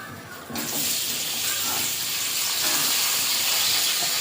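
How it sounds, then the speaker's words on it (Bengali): Chopped onion hits hot oil in a wok for a prawn and potato curry, a sudden loud hiss after half a second that settles into a dense, steady sizzle close by, no speech. "দিয়ে দেবো পেঁয়াজ কুচি"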